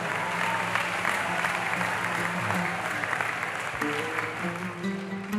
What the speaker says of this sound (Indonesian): Tepuk tangan yang meriah untuk pengisi materi kita.